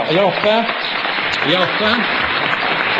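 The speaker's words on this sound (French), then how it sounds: "Je vous propose de l'applaudir dès à présent." Audience at an international conference in Paris applauding, a broad, steady wash of clapping heard under someone speaking French into an amplified microphone.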